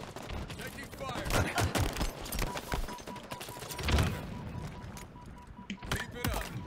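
Gunfire from Halo Infinite multiplayer, a steady string of sharp, close shots and impacts crackling through a bots match, with a voice calling out over the firing.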